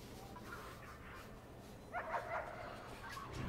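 Dog barks and yips from the prison-management game Prison Architect, a short burst of game-audio barking at moderate level amid low background hum and music, with no talk.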